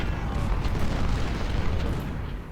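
Battlefield gunfire in the Civil War strategy game Ultimate General at the Battle of Shiloh: a dense, continuous roar of artillery booms and musket volleys rumbling without pause, loud and heavy in the low end.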